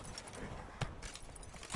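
Horse hooves clip-clopping during riding in The Witcher 3: Wild Hunt, a soft, steady trot with a couple of heavier thuds, fairly faint beneath game ambience and low noise.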